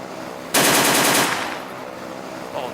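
Automatic gunfire from the Immersive Vehicles (MTS) video game: a loud, rapid burst of shots lasting about a second, trailing into a fading echo, with no voices.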